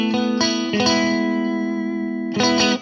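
An electric guitar plays clean chords through an FM3 Gibtone Scout amp model, with a few strummed hits ringing out into a long sustained chord and then a final strum, glassy and close with light ambience.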